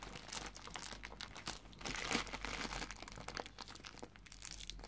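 A crinkly Mallow Tree marshmallow kebab snack packet is torn open, giving close, continuous plastic crinkling and tearing with sharper crackly bursts, faint and unaccompanied by talk.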